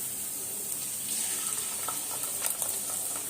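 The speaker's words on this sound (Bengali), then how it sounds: "এবার আমি ডিমটা এর মধ্যে দিয়ে দেবো।" Beaten egg poured into a pan of frying potato and onion while cooking egg pasta, a steady close hiss of sizzling oil with small crackles and pops throughout.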